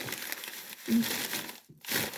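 A plastic bag crinkles and rustles softly up close as nuts are dropped into it, in a few short bursts separated by brief pauses.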